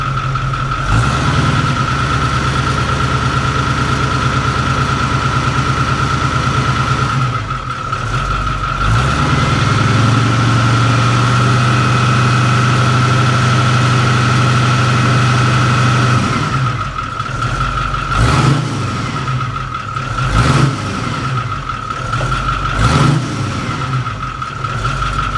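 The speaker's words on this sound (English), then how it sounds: "repeat the process for our noise comparison" Ford COE truck diesel engine with a new 4-inch exhaust, a loud close idle drone that rises into several revs and settles back, with short throttle blips near the end and no talk.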